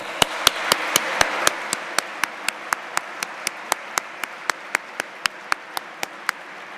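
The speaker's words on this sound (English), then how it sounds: "Please join me in giving yourselves a well-deserved round of applause." Evenly spaced loud claps, roughly three per second and slowing slightly, ring out close by at a university welcome event for new students, with a soft room hum behind and no talking.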